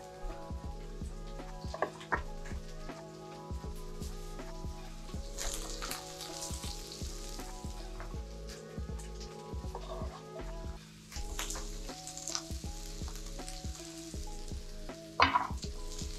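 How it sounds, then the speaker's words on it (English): Garlic and aromatics sauté in a touch of oil in a pan for breakfast fried rice, giving a steady close sizzle with scraping stir strokes, alongside background music with tonal hum. "We're just gonna saute that through for 20-30 seconds. We don't want to burn our garlic."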